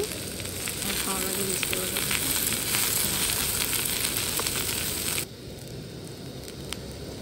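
Sausage chow mein with vegetables sizzles steadily in a pan while it is stir-fried, a close, continuous crackle that drops in level partway through.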